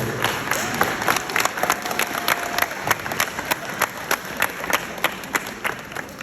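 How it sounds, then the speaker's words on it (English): Audience at a PACS award ceremony claps and cheers for parents, with sharp, distinct hand claps close by over a constant crowd murmur and occasional shouts. "Clap for the parents real quick"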